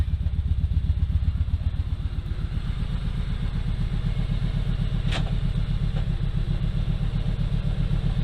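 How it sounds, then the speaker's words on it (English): A motorcycle idles in gear on a stand with its rear wheel spinning, a loud, close, steady rhythmic engine thump with a couple of brief metallic clicks, and no talking. "There's the rear wheel spinning."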